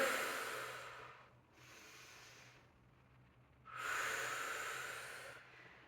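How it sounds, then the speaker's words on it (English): Deep, slow breaths are taken while holding a knee-down plank, three long airy inhales and exhales close to the mic, the last one loudest, with no talking. "we're gonna take a couple deep breaths here"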